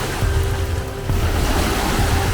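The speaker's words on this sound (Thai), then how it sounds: "คลื่นแรงมากเลยค่ะ" Strong waves churn across a dam reservoir, a steady loud wash of surf with wind buffeting the microphone throughout.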